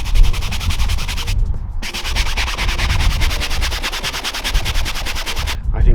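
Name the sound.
scrubbing a Porsche Boxster roof with cleaning liquid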